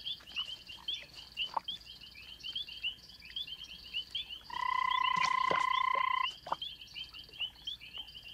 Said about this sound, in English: About 40 frogs are contributing to this nest